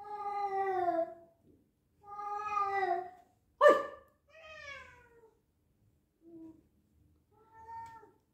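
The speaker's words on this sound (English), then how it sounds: "my cat has just got out of his sleep mode and he just wants to make his presence felt" A cat howls in long drawn-out yowls with pauses between, one sharper abrupt cry in the middle and a few shorter, fainter meows toward the end, close and alone in a quiet room.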